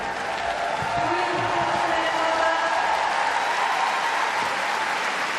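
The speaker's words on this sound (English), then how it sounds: "the reaction from the crowd" A large arena crowd at the 2022 World Gymnastics Championships men's vault final in Liverpool applauds and cheers a vault, a loud, steady roar of clapping that fills the whole stretch, with a faint voice underneath.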